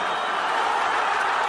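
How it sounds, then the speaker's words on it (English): At the end of a UFC fight a large arena crowd roars in a dense, continuous wash of cheering that stays loud and steady throughout. "As the crowd cheering, fight over."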